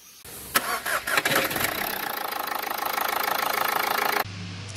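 A car engine cranks and catches, then settles into a steady, loud idle with a rhythmic knock before cutting off near the end.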